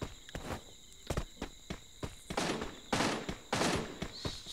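UMP submachine gun fire in the mobile shooter Free Fire Max at the training ground, sharp bursts and single cracks repeating over about four seconds, with footstep-like shuffles and a faint cricket-like hum behind.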